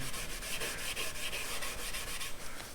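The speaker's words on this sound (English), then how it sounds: "sanding it" Hand sanding of a round cherry wood tray, a close, steady scratchy rubbing in quick repeated strokes with no talking.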